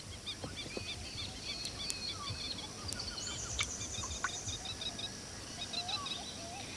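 Wattled plovers, lapwing relatives, call in an outdoor wetland setting, with sharp repeated cries at moderate distance over a busy background of other bird chatter.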